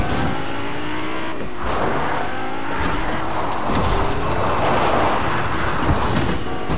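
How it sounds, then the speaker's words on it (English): A car in the video game Fortnite drives off with loud, steady engine roar and some tire squeal, continuous throughout with no talking. "I gotta get in the car I gotta drive"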